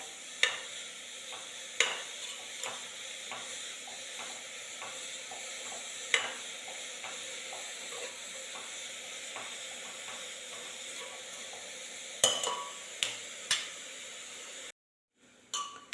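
Chopped mushrooms sauté in a pan for mushroom soup, giving a quiet, steady sizzle with occasional sharp clinks and scrapes of a utensil against the pan. The sound cuts out briefly near the end, and no one speaks.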